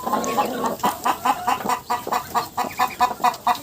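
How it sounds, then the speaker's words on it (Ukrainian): Hens brooding guinea fowl chicks cluck steadily in a quick, rhythmic series of short calls, close by and fairly loud, with a low farmyard murmur underneath. "Кури вже сваряться"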